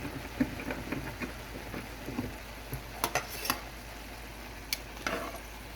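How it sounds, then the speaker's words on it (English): Cabbage and squash frying in oil in a pan and being stirred, soft sizzling under a scatter of scraping and tapping clicks from the utensil against the pan. "I'm just gonna stir that around."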